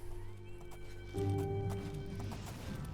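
Horse hooves pound at a steady gallop in Elder Scrolls IV: Oblivion, with a neigh or whinny mixed in; close and loud, getting louder and denser partway through, with no talking.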